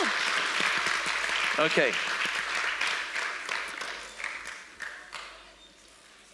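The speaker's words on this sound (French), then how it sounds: "Clap to the Lord and stand to your feet." Congregation clapping during a church service: sustained applause from a sizable crowd, loud and continuous before gradually thinning, with someone briefly speaking over it.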